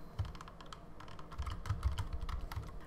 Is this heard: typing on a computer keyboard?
yes